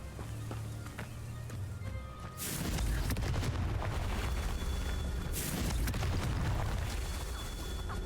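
A Confringo blasting spell in Hogwarts Legacy bursts with a loud whooshing boom at about two and a half seconds, followed by sustained crackling blast noise and a second surge near five and a half seconds.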